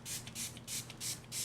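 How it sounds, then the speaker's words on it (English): Several quick spritzes of 91% rubbing alcohol onto freshly poured cold process soap, five short hissing puffs in steady rhythm, faint and close with no talk. "We're gonna go ahead and give this a spray."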